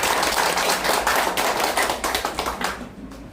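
An audience at an office opening ceremony and launch event applauds on cue, a close, busy rattle of many hands that thins out and tapers toward the end.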